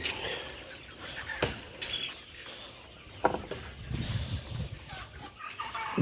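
Sonali chickens cluck softly in a poultry shed, scattered calls nearby amid rustling and low background noise, with a few sharper sounds.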